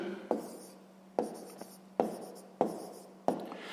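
Pen strokes scratch across paper, close and quiet, in short bursts each starting with a tap, five strokes spaced roughly evenly.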